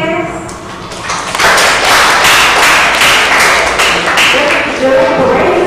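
Audience applause at a judged competition, a dense broadband clapping that swells after the first second and holds steady and loud to the end, with voices mixed in.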